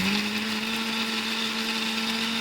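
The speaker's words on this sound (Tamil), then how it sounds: "ஒரு மிக்ஸி ஜாரில் போட்டு நல்லா மையாக அரைச்சிக்கோங்க." Kitchen mixer grinder blending cooled thuthuvalai leaves into a smooth paste with a little water, a loud continuous motor whine with a steady pitch that rises slightly at the start, close up and without voices.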